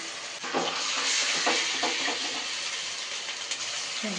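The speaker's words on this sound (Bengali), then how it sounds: "একটু লাল লাল করে এটা ভেজে নেব" Paneer sizzles steadily in hot oil in a home kitchen pan for a Bengali navratan curry, a loud continuous frying hiss broken by a few soft stirring clicks and taps.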